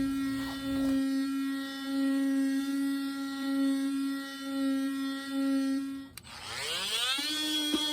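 A steady, high-pitched whine from a power sander on painted wood runs continuously, ending with a falling tone as the motor spins down and briefly restarts.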